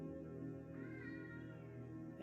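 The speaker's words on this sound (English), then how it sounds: "Mr. Puss, if anyone can hear him in the background, my beautiful cat." A cat gives a single soft meow in the background over a steady droning ambience, faint and drawn out.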